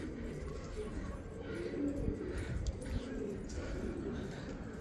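Pigeons coo softly in a few low, throaty bursts at close range, with light clinks and rustling around them and a voice talking over parts of it.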